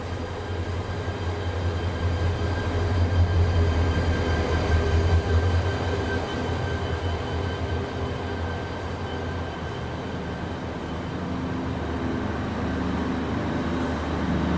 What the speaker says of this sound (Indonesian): Itu dia kereta yang akan saya naiki ya.